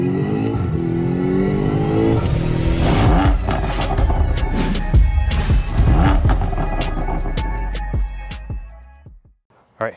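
A 2018 Porsche 911 Carrera S revs loudly and close by, the engine rising and falling through several strong pulls before cutting off abruptly near the end.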